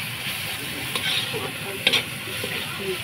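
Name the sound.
sautéing spices and ginger in a pan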